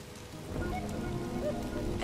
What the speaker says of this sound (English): And if it's raining down here